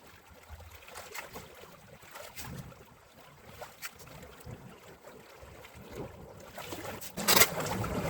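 Water runs steadily through a three-layer gold sluice gutter set in a creek in southeast Denver. The rushing is soft and continuous, with a louder splashing surge near the end.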